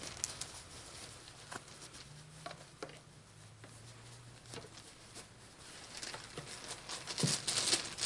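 Small tabletop game dice clatter and tick in short, scattered bursts as someone rummages through a pile looking for a four-sided die, fairly quiet and close, with no talking.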